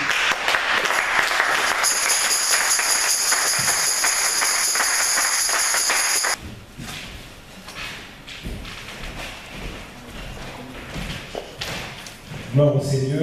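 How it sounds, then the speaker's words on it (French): Clapping and cheering from a congregation at a church service fills the first half, a dense wash of applause with a sustained tone over it, then drops into quieter talk and scattered noise. "Et nous allons l'acclamer."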